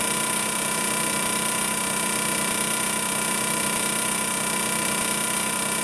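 A Twister T4 trimmer runs with its blades switched on, giving a steady, continuous electric buzz and hum with a bright high whine, close and unchanging throughout, with no talking.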